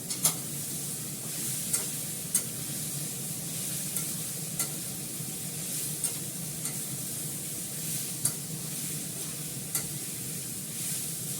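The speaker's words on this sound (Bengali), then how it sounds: "ভালো করে দেখো কষাচ্ছি আমি। এবার সোয়াবিনটা দিয়ে দেবো।" Masala sautéing in a hot wok while soybean chunks are added, with a continuous close sizzle and regular light scraping clicks from a spoon against the wok.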